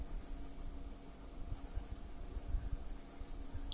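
Pen or chalk scratching out prime factors during a maths lesson, a faint, steady scraping with soft irregular strokes over a low background hiss.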